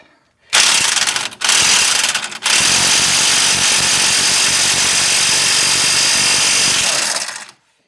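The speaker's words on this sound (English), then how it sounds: "One thing I am going to do is take off the hub nut here." An impact wrench hammers at a 30 mm hub nut on a 2006 Toyota Matrix: a loud short burst, a brief pause, then a sustained rattling run of about five seconds before it cuts off, with no talk.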